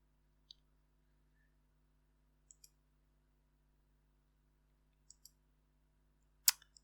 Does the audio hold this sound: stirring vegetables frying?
no